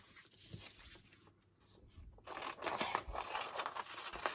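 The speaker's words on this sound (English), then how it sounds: "And I'm thinking I would like to use the scissors." Scissors snip and slice through paper bookmarks at a craft table, close, quiet crisp cuts in an irregular run, with a ceiling fan humming faintly behind.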